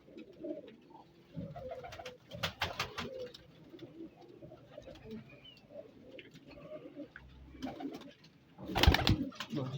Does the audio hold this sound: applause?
no